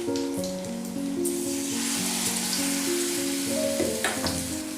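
Pumpkin flowers frying in a large frying pan, a steady loud sizzle with bubbling crackle running throughout, no talking.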